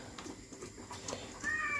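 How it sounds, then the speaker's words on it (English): A cat gives a short, faint meow near the end, over quiet indoor background noise. "Sorry if you hear any meowing, the cat has decided to actually wake up and"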